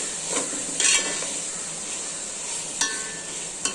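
Tomato and onion sauté in ghee for mutton biryani, a soft constant sizzle broken by a few sharp spoon scrapes and clanks against the pan, close by.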